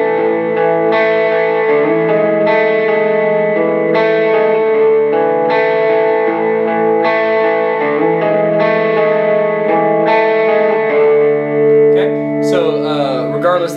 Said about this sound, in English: We may turn the reverb kind of off and just have the delay going,